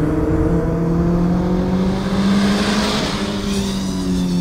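A Suzuki Ignis Sport or Opel Mokka accelerating hard on a race track in third gear, the engine note rising steadily and loud and close with no pauses.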